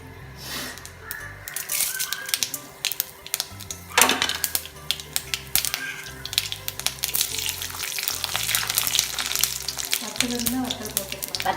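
Mustard seeds crackle and pop in hot coconut oil, a dense irregular spattering of sharp clicks over steady background music, with a burst of louder pops partway through.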